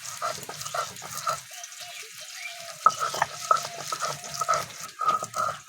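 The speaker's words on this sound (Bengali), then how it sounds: "ভালো করে মিহি করে বেটে নেব" Garlic and ginger, about twice as much garlic as ginger, ground by hand into a fine paste: close, uneven scraping strokes with short pauses between bursts.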